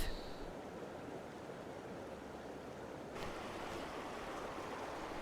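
A river flows among rock formations near hot springs and an eco-park, giving a steady, broad rushing wash of water that stays even and continuous throughout.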